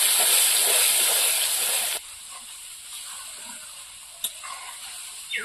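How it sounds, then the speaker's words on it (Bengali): Spice masala fries in a pan with a loud, steady sizzling hiss for about two seconds, then drops to quiet crackles and a few soft scrapes. "এবার মশলাটা ভালো করে কষিয়ে নেব।"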